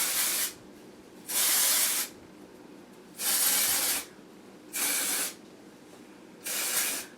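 Batiste dry shampoo for dark hair sprayed onto hair roots in four separate aerosol bursts, each a steady airy hiss lasting under a second, close and fairly soft with quiet pauses between and no speech.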